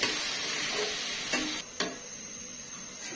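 Vegetable curry stirred and sautéed in a pan with a little added water, a steady close sizzle under scraping spoon strokes, with two sharper knocks of the spoon against the pan before the sizzle drops lower.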